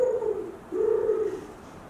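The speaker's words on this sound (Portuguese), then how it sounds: "a gente fica ouvindo as pombas arrulharem" Doves coo twice in low, rolling, drawn-out calls, fairly close and clear against a soft steady background hum.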